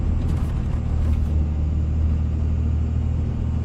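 Dodge Ram pickup with a 5.9 Cummins diesel in four-wheel drive, cruising through deep snow on a West Virginia mountain pass at about 1600 RPM and 35 mph, a steady loud low engine and road rumble with no talking.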